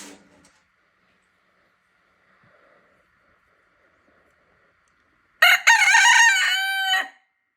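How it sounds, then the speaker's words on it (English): A rooster crows loudly and close by after a long near-silent stretch with only faint background murmurs, its single call lasting about a second and a half. "with the rooster."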